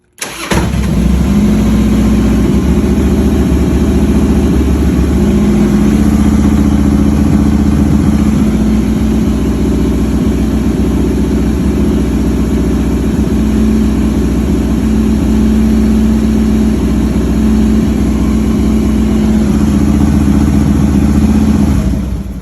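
A Harley-Davidson motorcycle with a suspected faulty regulator rectifier cranks and fires up almost at once, then settles into a steady, loud, close rumbling idle that runs without a break and with no talking.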